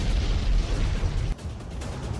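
Artillery shells explode in a war zone, making a loud, deep booming rumble that fills the clip and drops off sharply partway through, with a lower roar after it and no speech.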